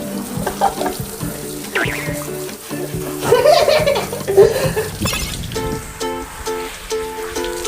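Tap water runs and splashes while hair is washed, uneven gushes and drips under clattering handling noises, with a short tonal beep pattern near the end.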